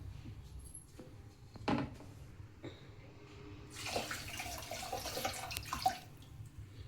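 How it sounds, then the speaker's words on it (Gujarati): Water poured from a pan into Gujarati dal as it cooks, a soft, fairly quiet splashing and trickling, with a fuller gush for a couple of seconds in the latter half. "થોડું પાણી નાખીશું."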